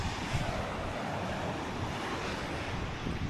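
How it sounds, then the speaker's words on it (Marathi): Sea waves surging and crashing continuously at high tide on a Ratnagiri beach, a dense roaring wash with wind buffeting the microphone, loud and close. "आता पूर्ण भरती आहे समुद्राला म्हणून सगळं पाणी भरती आहे"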